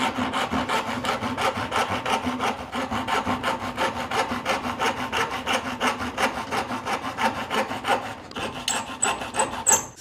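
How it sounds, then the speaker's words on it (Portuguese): Rapid, rhythmic strokes of a handsaw cut through MDF clamped in a vise, a close, raspy back-and-forth rhythm sustained throughout before ending with a few lighter, irregular scrapes. "Eu vou serrar ela agora com o serrote na morsa"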